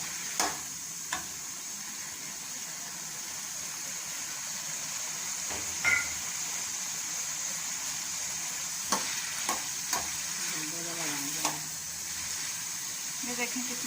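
Petha halwa roasts in desi ghee with a steady, close sizzle and occasional spoon scrapes and clinks as it is stirred, while a voice talks intermittently over the frying.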